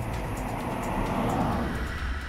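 A car changing lanes on a Goodyear tyre test track: steady, loud, broadband road and tyre roar with engine noise throughout, heard from inside or near the moving vehicle.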